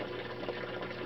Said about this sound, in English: It's got water being recirculated and moved around by 100 watt pond pump